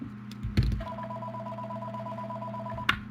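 Telephone dialing tones of an incoming call sound during a comedy Halloween show, a steady pair of tones held for about two seconds, broken by short clicks at the start and end.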